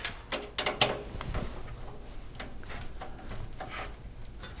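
A rear case fan being screwed in and tightened inside a PC case, a few quick close ratcheting clicks and scrapes at first, then quieter faint fiddling, no talk.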